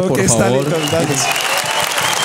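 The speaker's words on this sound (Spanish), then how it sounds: "un aplauso para Diego y Snyder" Applause for two guests on a talk show, clapping under a man's speech at first, then continuing on its own and growing more distinct toward the end, close and moderately loud.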